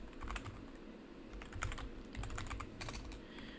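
Quick, steady typing on a computer keyboard, close up with irregular clicky keystrokes over a low background hum.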